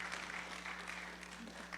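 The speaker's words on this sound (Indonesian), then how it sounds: "Kita berikan tepuk tangan yang paling meriah buat Tuhan" Applause from a church congregation during an onsite service in New York, a steady wash of clapping filling the room without pause, with a low steady hum beneath it.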